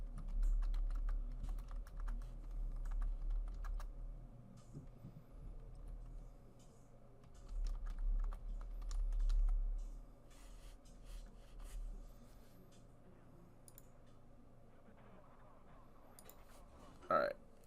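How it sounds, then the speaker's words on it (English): Quiet computer keyboard typing, a steady run of soft key clicks close by, faint and continuous, with a louder clatter near the end. "Sorry, I'm typing on my computer."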